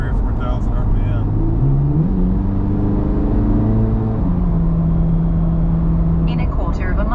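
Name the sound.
Chevrolet Corvette C8 Z06 engine revving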